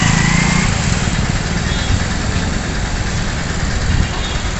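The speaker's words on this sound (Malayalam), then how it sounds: "ഈ സൈഡിൽ കൂടെ ബൈക്കൊക്കെ പോകുന്നുണ്ട് കേട്ടോ" Motorbike engines hum and drone as the bikes pass along a roadside beside a shopping mall car park, a steady, fairly loud mid-range rumble with no talking.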